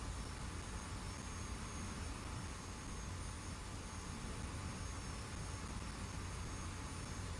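An F-86 Sabre jet cruising in the DCS flight game gives a faint, even, unbroken roar and hiss of jet engine noise that holds steady throughout with no talk.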